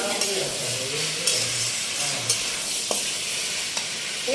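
Fried pakoras for chicken 65 get stirred in a sizzling pan, with steady frying crackle and a few sharp scraping clicks of the spoon against the metal.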